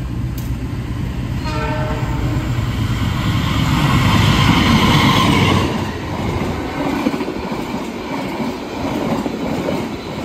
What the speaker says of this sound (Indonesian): nantinya jalur 2 akan melintas langsung kereta api Mutiara Selatan